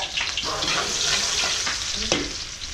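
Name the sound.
garlic and onion sautéing in pan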